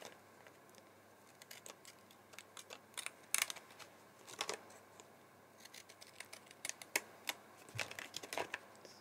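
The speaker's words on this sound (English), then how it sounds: "I'm going to go round with my fancy scissors" Faint, close snipping of fancy-edged scissors around a die-cut Christmas card, irregular small cuts and clicks in quick succession over a quiet background.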